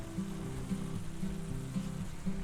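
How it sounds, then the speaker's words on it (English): A honey glaze with black pepper, thyme, rosemary and ground cinnamon stirred in a pan, giving a low steady sizzle with a soft rhythmic swish about twice a second. "let's mix that all in there"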